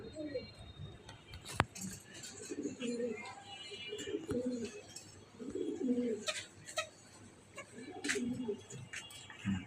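Racing pigeons of the Budapest breed coo in soft, repeated low phrases at close range, with small chirps and clicks between them, while people talk nearby.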